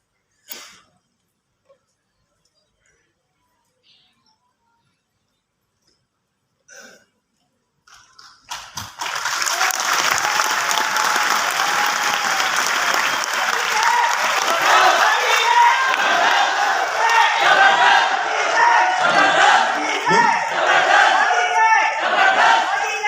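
Meeting audience bursts into loud, sustained clapping and cheering after several seconds of near silence with a few scattered taps, the crowd noise holding steady to the end.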